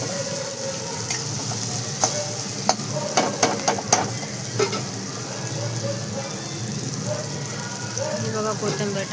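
Browned onions with turmeric stirred in a frying pan while cooking a potato vegetable dish: a steady close sizzle with scraping spoon strokes against the pan, without talk.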